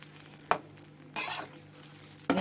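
Semolina tossed with fried winter vegetables is stirred in a pan: a few sharp scrapes and clinks of the spoon against metal break a quiet, low sizzle, in short separate bursts.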